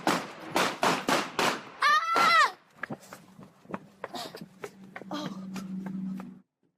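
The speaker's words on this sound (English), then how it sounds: "We're going to show you the moment of the shooting" Gunshots in a shooting in Chicago involving people in a vehicle: a rapid run of about five sharp bangs, then a voice crying out, followed by scattered clicks and thumps and a low steady hum.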